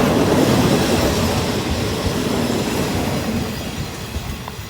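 Alsthom 4402 locomotive hauling parcel freight train 985 rolls into the station on track two, a loud steady rumble of wheels and wagons with rhythmic clatter that slowly eases as it passes close by.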